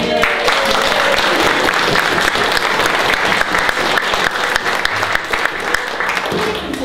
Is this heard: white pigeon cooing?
no